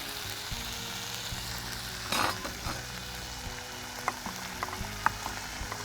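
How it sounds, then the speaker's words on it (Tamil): Ingredients sauté in a pan, with curry leaves added before barley, giving a soft continuous sizzle and occasional clinks and scrapes of stirring, one louder burst early on. "இதை கொஞ்சம் வதக்கிக்கோங்க லேசாக"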